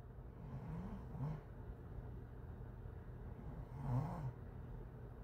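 A person snores in two slow, rasping breaths, one around the middle of the clip and a stronger one later, over a constant low background hum.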